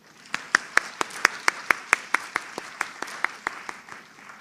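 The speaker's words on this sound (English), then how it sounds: "Please welcome them with a warm round of applause" A lone person or small group claps in a steady, regular rhythm of about twenty crisp claps, welcoming research paper presenters at a collegiate research competition; the clapping is fairly close and moderately loud, with no talking.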